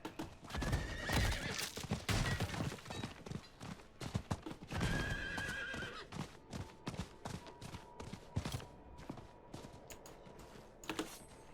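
Horse whinnying and hoof clip-clop in Diablo 4 gameplay, with a loud whinny near the start and again mid-way, then steady hooves under game effects and clicks.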